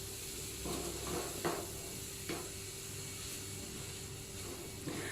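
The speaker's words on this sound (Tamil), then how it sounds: "பச்சை வாசம் போகிற வரைக்கும் நல்லா எண்ணெயிலே மிக்ஸ் பண்ணணும்" Vegetable momo filling fries in oil in a pan with a steady, close hiss as a spoon scrapes and stirs through it in a few irregular strokes.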